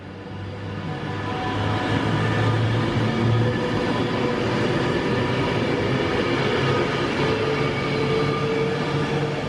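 An Avanti passenger train pulls out of Stafford station, a steady loud rumble of wheels and traction building over the first seconds and then holding close by, with a low hum throughout and no talk.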